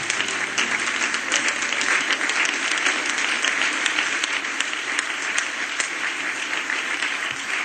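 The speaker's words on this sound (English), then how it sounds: "Clap your hands to the Lord one more time" A church congregation claps their hands during a sermon service, a loud, sustained burst of dense applause with crisp individual claps that continues evenly for nearly eight seconds, no one speaking.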